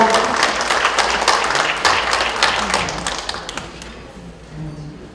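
An audience at a book launch talk concert claps in a dense burst that gradually thins and fades, with a voice faintly starting up at the end.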